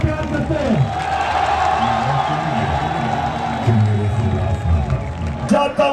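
A large crowd at a political rally cheers and applauds steadily in a loud, continuous roar, with whoops and shouts rising through it and a brief swell near the end.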